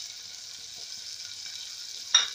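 Beef pilau seasoned with salt and masala sizzles steadily in a pot, a quiet, even frying hiss with a brief louder burst near the end, likely from stirring.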